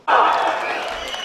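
A crowd claps loudly for a poet being welcomed at a Hindi kavi sammelan in Jhalrapatan, a dense burst of applause that starts abruptly and holds steady, fading only slightly.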